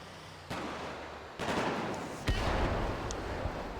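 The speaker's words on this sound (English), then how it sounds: "Oh, gunshot, gunshot." Gunfire in the video game GTA V with the LSPDFR police mod comes as about three separate, moderately loud shots spaced roughly a second apart over a steady background hum.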